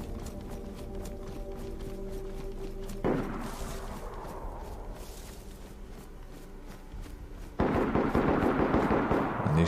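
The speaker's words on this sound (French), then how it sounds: "Un échange de tirs de ce genre, et qui s'éternise, en général ça n'augure rien de bon." Gunfire is exchanged in the video game DayZ: a steady train of sharp shots, then louder bursts that strike at two points and keep going, with no voices.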